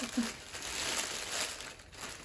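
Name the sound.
crinkling plastic wrapping being unwrapped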